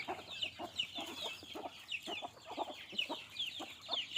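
Native chickens on a small desi poultry farm, hens among many young chicks, cluck in a steady run of soft, repeated calls with busy chirping above, close by and without talk.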